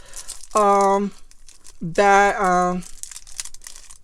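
Paper wrapping around a Louis Vuitton bag and key charm crinkles and rips during an unboxing, with short bursts of crackling between excited voiced exclamations close by.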